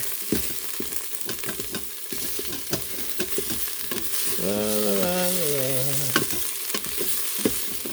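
Paella being stirred in a pot on a griddle, with a steady sizzle and scraping spoon clatter; the rice is catching and burning slightly at the bottom, and a short tonal squeak rises midway through.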